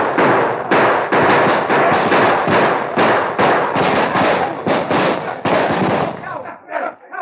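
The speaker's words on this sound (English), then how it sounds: "drew their guns, and fired, to be answered almost immediately by the advancing posse." Gunfire exchange between outlaws and a posse in a 1940s western radio drama: a rapid, sustained volley of loud, close shots bursting one after another with hardly a pause, thinning out at the end.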